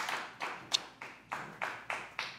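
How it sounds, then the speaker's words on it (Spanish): Slow, evenly spaced hand claps at a Colombian vallenato TV bar show, about eight sharp claps in quick succession, close and fairly loud with no talk over them. "bien, un aplauso para Pepín"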